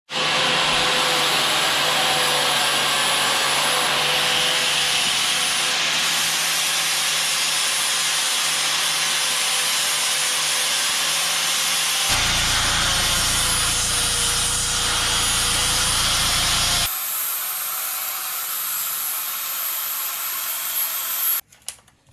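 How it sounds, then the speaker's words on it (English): A flap disc on an angle grinder grinds metal flat on a Jeep JL during a long arm kit install, a loud, continuous high whine with a rough hiss that shifts in pitch partway through before cutting off. "And you're going to be grinding until it's flat."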